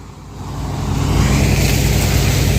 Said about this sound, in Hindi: अपनी गाड़ी जो है अरहर की कटाई कर रही है ना।